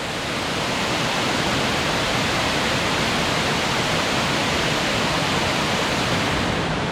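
Mohawk Falls at Ricketts Glen pours with a dense, steady broadband roar, close and constant without a break.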